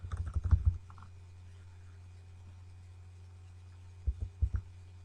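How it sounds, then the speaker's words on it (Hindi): Arrow keys on a computer keyboard are pressed in a quick cluster of clicks at the start, then a short silence, then a few more taps, all over a low steady electrical hum. "मैं अब एरो क्लिक करता जा रहा हूँ"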